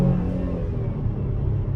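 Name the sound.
2021 Chevrolet Traverse engine accelerating at full throttle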